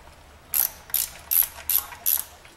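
A ratchet with a 19 mm socket loosens the oil drain plug on a 2005-2009 Audi A4 2.0T FSI (B7), giving five quick, evenly spaced bursts of clicking, close and fairly crisp, with no talking.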